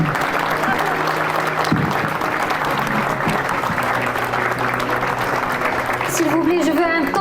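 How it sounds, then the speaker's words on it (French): Applause from the audience at an award ceremony for a trophy presentation at a grand iftar, dense and steady clapping that fills the room throughout and swells slightly toward the end. "je veux un tonnerre d'applaudissements, encore une fois, pour Madame Domola"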